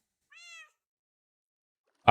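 A cat in the modded Minecraft game gives a single short, clear meow, followed by silence and an abrupt loud burst at the very end.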